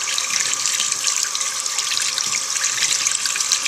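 A tap runs warm water into a sink while a beauty blender sponge is rinsed, a steady close bright splashing stream that continues evenly throughout without talking.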